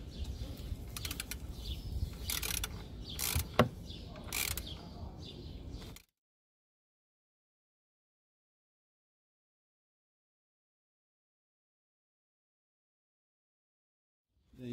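A ratchet tightens the CVT transmission's valve body bolts to spec in a crisscross pattern: rapid, close clicking bursts for about six seconds, then near silence.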